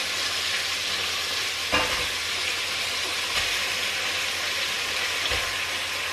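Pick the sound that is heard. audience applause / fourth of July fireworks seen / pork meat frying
pork meat frying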